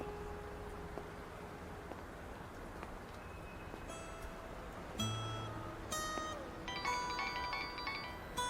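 A phone rings in a quiet interior scene from a Chinese drama, repeated electronic tones starting partway through and building to a bright, layered ringtone toward the end, with no talking.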